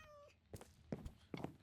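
A cat meows a few times in Minecraft, the short cries standing out over quiet background sound with a faint tone early on.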